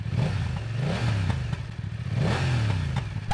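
A 2023 BMW F900R naked motorcycle engine revs hard in two strong bursts, the pitch climbing and falling with each throttle blip, loud and close with a mechanical clatter over the deep exhaust note and no talking.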